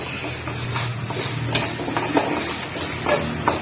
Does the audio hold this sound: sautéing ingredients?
yes